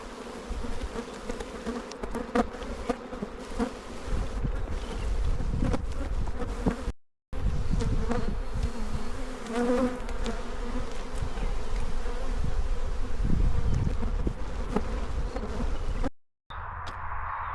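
Bees buzz steadily and densely around a poly nuc hive outdoors, a continuous close drone with individual bees flying past the microphone, briefly cutting out twice.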